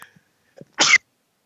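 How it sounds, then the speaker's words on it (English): A single sharp sneeze, close and sudden, after a couple of faint breaths. "I had to sneeze there."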